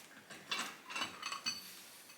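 A wrench breaks loose the lug nuts on a car wheel during a roadside tire change, giving several short clicking ratchet bursts, close and fairly quiet.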